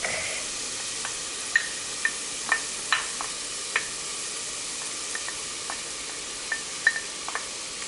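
Onions and garlic sauté in a pan, giving a constant bright sizzle with scattered light taps and scrapes of a stirring spoon, close and steady throughout.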